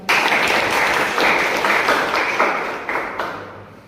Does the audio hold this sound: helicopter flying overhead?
no